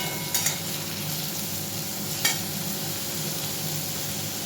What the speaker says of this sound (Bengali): বিট ভাজাটা করে নিই